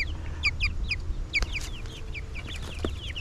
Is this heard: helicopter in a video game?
no